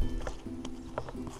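Horse hooves clip-clop in an uneven rhythm on a hiking trail over a low, steady background, with a few sharper knocks standing out; the horse has lost a shoe.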